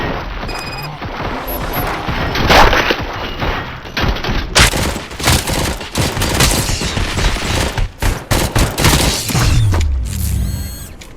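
Heavy gunfire in RoboCop: Rogue City, dense sustained bursts of shots with crashes and impacts, loud and close, in continuous chaotic volleys.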